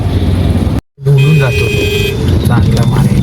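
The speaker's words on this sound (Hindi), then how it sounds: "तो आज रास्ते पे भारी मात्रा में हमें ट्रैफिक देखने के लिए मिल रही है" Busy Indian road traffic on a drive to an exam centre, a loud steady wash of engines and passing vehicles close by, with a brief dropout and then a sustained horn blare amid the traffic noise.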